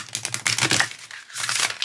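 A deck of Enchanted Map oracle cards is shuffled close up: quick papery riffles and soft crinkling in two bursts separated by a brief pause, with no one speaking.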